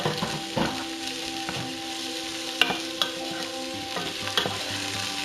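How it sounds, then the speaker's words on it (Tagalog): Beef sizzles and fries in a pan for Chinese-style beef curry, a steady close hiss punctuated by a few sharp stirring clicks and scrapes, with no talking. "We'll just fry it."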